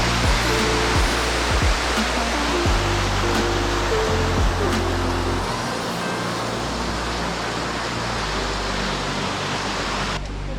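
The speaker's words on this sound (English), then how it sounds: "This is definitely by far our favourite waterfall as well." A waterfall on the Gibb River Road in the Kimberley roars steadily and loudly, a dense continuous rush of falling water close by that fills the whole stretch without pause.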